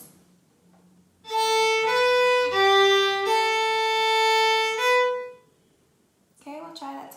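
A solo fiddle plays the opening phrase of the Manx tune Myr Shenn Ayr, a run of sustained, clear bowed notes stepping between pitches for about four seconds, followed by a brief voice speaking afterward.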